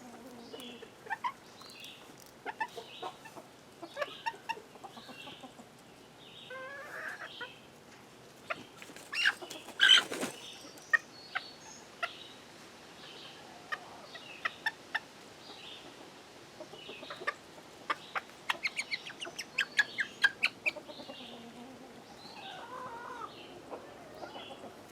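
Chickens in an enclosed yard after morning scratch feed, with scattered clucks and calls from several birds, some near and some farther off, over a quiet background.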